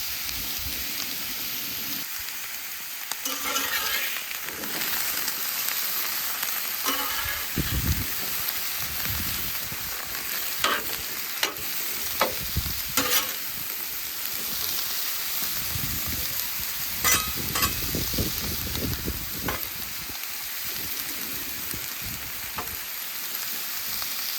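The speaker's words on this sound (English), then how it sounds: "now we've got the sausage all browned, our zucchini and squash is ready to pull" Sausage, zucchini and squash sizzle and fry in a pan, a steady close hiss broken by scraping stirs and soft clinks of a utensil.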